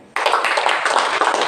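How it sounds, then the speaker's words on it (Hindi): Audience clapping at a Brahma Kumaris spiritual discourse starts abruptly and continues as a loud, steady burst of many hands for over a second. "ताली बजाओ।"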